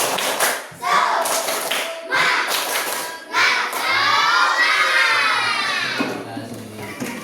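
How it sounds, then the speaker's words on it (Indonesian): Classroom of students standing to perform the tepuk semangat clapping chant before a presentation, rhythmic bursts of hand claps mixed with chanted and shouted voices, close and lively. "kita tepuk semangat dulu"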